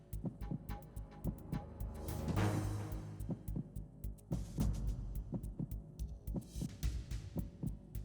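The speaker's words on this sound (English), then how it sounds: "You can hear his heartbeat." A character's heartbeat in Metal Gear Solid 2 on PS2 thumps low and steady in paired beats throughout, with a short swelling rush of noise near the start.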